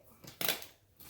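Scissors snip through a paper sewing pattern for high-waist bummies, a couple of close, crisp cuts with a brief rustle in a quiet room.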